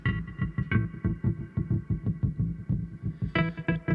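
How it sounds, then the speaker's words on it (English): Electric guitar strums chords in a steady rhythm, notes blurred and lingering with a reverberant wash, a louder strum near the end. "Let's stick a reverb on."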